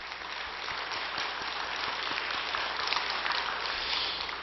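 A church congregation at an early-morning prayer service claps together in a dense, steady wash of applause that sounds like rain and carries through the hall, with no voices over it.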